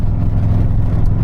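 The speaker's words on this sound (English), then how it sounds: "this bike's just been sitting there idling for a hot minute" A 2017 Harley-Davidson Softail Deluxe motorcycle sits idling, its engine giving off a steady, close, low rumble with no one speaking.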